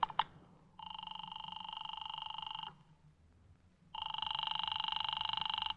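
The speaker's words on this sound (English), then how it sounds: "Oh, Walt, do you mind if I use your phone?" A telephone rings in a 1940s radio detective drama, two long electronic ring bursts separated by a pause, loud and close, preceded by a brief click, with no talk over it.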